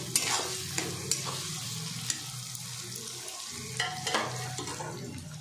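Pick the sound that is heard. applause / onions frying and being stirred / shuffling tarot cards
onions frying and being stirred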